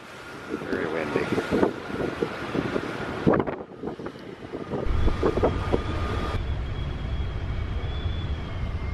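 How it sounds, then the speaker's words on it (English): Wind buffets the microphone in steady gusts over a boat's low engine rumble, on a rainy, gray day approaching Port Townsend, Washington, with a voice speaking briefly near the start. "Very windy."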